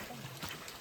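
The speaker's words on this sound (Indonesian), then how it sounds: "di pos 2 ini kedengeran tuh gemericik air" Brief trickle of a mountain spring on the trail up Mount Latimojong, a soft steady gurgling wash that is quiet and short.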